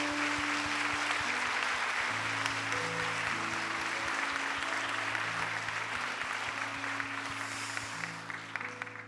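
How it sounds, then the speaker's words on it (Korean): Congregation applauding in a church after a worship testimony, sustained dense clapping from many hands throughout, steady and fairly loud, with organ or keyboard chords sounding beneath. "뜨거운 박수를 한번 보내드리도록 하겠습니다"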